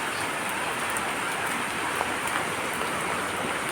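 Monsoon rain falls at night in Mangalore, a steady, dense hiss of drops pattering on surfaces, unbroken and fairly close, with no voices.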